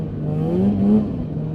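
Polaris Indy 550 snowmobile two-stroke engine with twin carburetors revving up briefly, a steady close buzzing drone that rises in pitch and swells, then settles.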